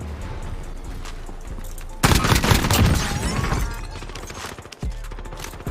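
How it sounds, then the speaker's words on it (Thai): Gunfire erupts in Call of Duty Warzone, a sudden loud burst of rapid overlapping shots after a quieter stretch, with further scattered reports and game noise continuing. "ยิงกันอยู่เลย"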